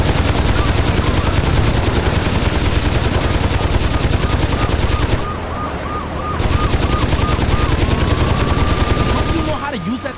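Rapid, loud machine gun fire from the Saints Row 2 prison break mission, sustained bursts with a brief pause midway, siren-like tones wavering beneath the continuous gunfire.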